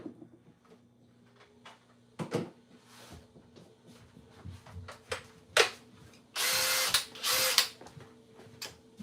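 Craftsman CMCD726 cordless drill, a newer model shown alongside an older Craftsman, revving in short bursts with two longer loud runs near the end, heard up close against a faint background hum.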